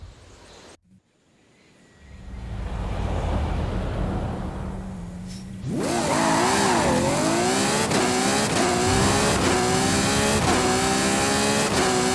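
A Volkswagen Golf GTI racing in Forza Horizon 5, starting with a brief quiet gap and a rushing rumble, then the engine revving hard and loud with rising, shifting pitch as the car accelerates through gears.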